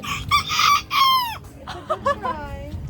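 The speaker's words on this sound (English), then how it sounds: "The tiny little rooster noise." A small rooster crows nearby, a strained rising call followed by a second shorter crow, over faint background noise.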